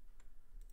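A few quick computer keyboard and mouse clicks, faint and close, heard as sparse taps over a low steady room hum.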